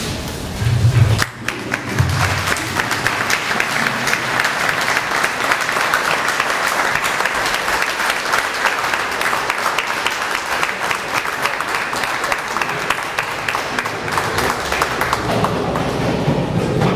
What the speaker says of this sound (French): je vous invite à vous lever et à les applaudir